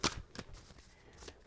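Tarot cards being shuffled by hand, a few quick riffling bursts with soft flicks between, close and fairly quiet with no talking.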